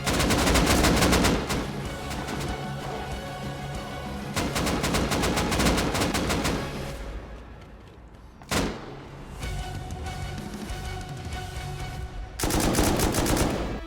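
Sustained bursts of automatic and single-shot gunfire trade back and forth during a clan base raid in the Rust video game, loud and dense with brief lulls and a sharp crack near the middle.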